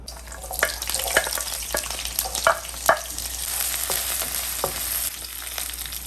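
Onion, ginger, garlic and curry leaves frying in oil for a spicy Kerala sardine curry, a close steady sizzle broken by sharp crackles and spatula scrapes at irregular moments.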